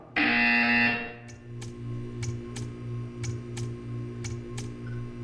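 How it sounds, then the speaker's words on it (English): A loud, harsh buzzer from the video game Portal 2 blares for about a second at the start, then gives way to a steady low hum with a series of sharp clicks or ticks spaced through the rest. "You will hear a buzzer."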